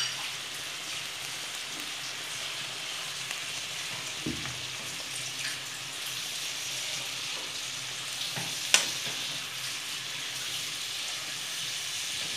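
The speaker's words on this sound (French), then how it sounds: "je mélange et je couvre donc la poêle pour que les oignons et le poivron puissent cuire tranquillement" Onions and bell pepper cook over medium heat in a covered frying pan, giving a steady, soft, even hiss with a couple of faint clicks from the lid or pan and no talking.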